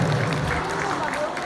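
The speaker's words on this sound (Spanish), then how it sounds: "a quien brindemos un fuerte y caluroso aplauso" Steady, dense applause from a crowd at a school ceremony honoring a guest, filling the whole brief moment at moderate loudness with a murmur of voices beneath.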